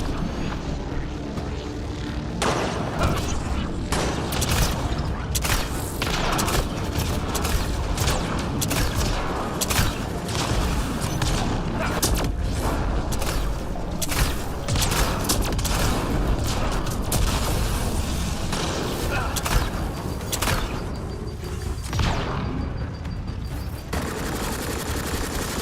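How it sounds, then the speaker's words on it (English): Sustained gunfire in the video game Mass Effect: Andromeda, with dense bursts of shots and booms layered over a loud, continuous roar of battle noise that runs throughout. "Cease your shooting at me immediately."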